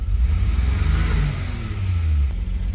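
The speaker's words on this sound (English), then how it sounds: "You could hear the RPM come up." An exotic sports car engine, recently rescued from long storage and running with a reconnected fuel injector, holds a steady loud drone and then climbs as the revs rise, close to the microphone and with no talking.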